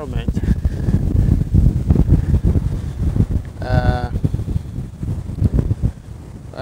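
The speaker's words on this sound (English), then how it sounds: "It's windy though." Gusty wind buffets the microphone in rough, low rumbling bursts in Lithuania, with people talking underneath and a brief tonal call partway through.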